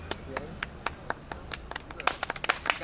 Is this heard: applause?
yes